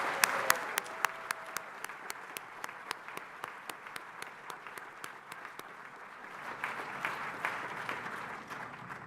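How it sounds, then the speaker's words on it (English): Applause from families and guests at a university graduation ceremony, a moderate crowd clapping steadily with a few sharp, distinct nearby claps standing out throughout, swelling slightly toward the end. "Can we give him another round of applause?"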